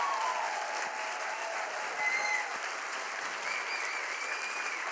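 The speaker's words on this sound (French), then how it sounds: "je voudrais bien que vous acclamiez" Conference audience applauds steadily at a cancer colloquium, a dense, sustained wash of clapping from a large crowd filling the hall.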